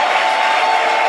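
A church congregation claps hands for Jesus in a brief, dense burst of steady applause.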